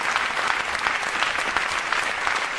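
Steady applause from an audience at a Tamil stage debate, dense clapping continuing throughout without a break.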